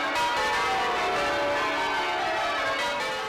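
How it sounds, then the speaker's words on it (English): Church bells ring loud and close inside the Birmingham Cathedral bell tower, with overlapping strikes forming a dense, continuous peal throughout. "these mics will pick up every strike on the bells"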